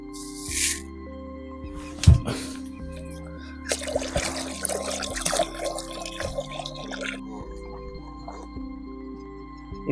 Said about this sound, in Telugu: నీళ్ళు పోసి నానబెట్టుకుందాం